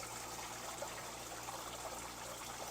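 Steady trickle and splash of water from a small waterfall in an 800-gallon indoor pool pond, continuous and fairly faint, with a low pump hum underneath and no talking.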